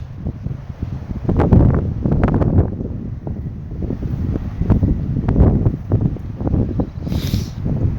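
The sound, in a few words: wind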